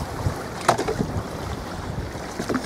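Strong wind buffets a fishing boat on open water, rough gusty rumble and microphone buffeting with a few sharp knocks, close and brief, no speech.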